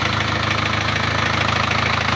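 Close, loud Isuzu 4JA1 diesel engine idling after an overhaul with a steady, rhythmic knocking pulse, running evenly without pause.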